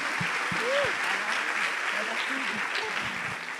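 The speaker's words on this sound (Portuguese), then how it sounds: "Dê um aplauso ao Senhor por tudo que Ele tem feito" A church congregation applauds in a sustained, dense wash of clapping that stays steady and fades slightly at the end, with voices calling out beneath it.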